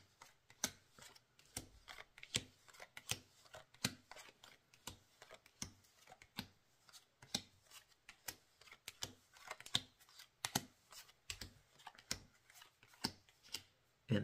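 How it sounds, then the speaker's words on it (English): Playing cards are dealt one by one into several piles of four for a round of solitaire, giving a steady stream of short, crisp snaps and slaps, close and fairly quiet, with no voice over them. "just keep going until all of my cards are dealt out"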